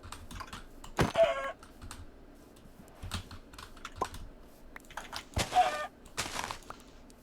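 Chicken clucking in a video game, likely Minecraft, with two short clucking bursts heard amid fast clattering keyboard typing and clicks, close and moderately loud.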